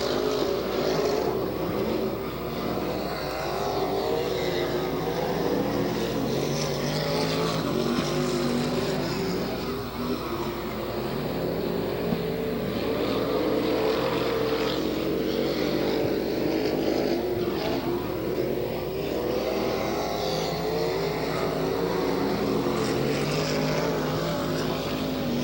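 IMCA modified stock cars, roughly 2,400 pounds and running on methanol, roar around a dirt oval at a Porterville, California point race in 1996, a steady loud engine drone that swells and fades as the pack passes.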